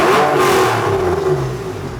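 A cheap Porsche engine with its back boxes removed revs hard, a loud raspy roar that holds and then eases slightly as the revs fall, close and unbroken, with no voices.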